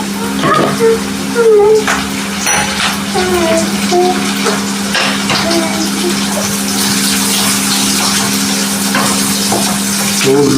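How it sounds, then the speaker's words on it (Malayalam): Onion, garlic, ginger, green chilli and capsicum sautéing in a pan over a high flame for chilli chicken, a loud continuous sizzle with occasional stirring scrapes and a steady background hum throughout. "ഉള്ളി വെളുത്തുള്ളി ഇഞ്ചി പച്ചമുളക് ക്യാപ്സിക്കം ഒന്ന് ജസ്റ്റ് ഈ ഹൈ ഫ്ലെയിമിൽ വാട്ടി കൊണ്ട് എടുത്താൽ മതി."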